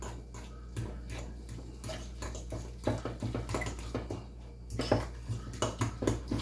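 A spoon works deviled egg filling and mayonnaise together in a bowl for seafood deviled eggs, giving quick irregular clinks and scrapes of utensil on dish, close and fairly soft, with no voices.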